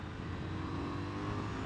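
A KTM 990 Duke parallel-twin motorcycle engine drones loudly and steadily, its deep torquey exhaust note sustained under acceleration at an even level.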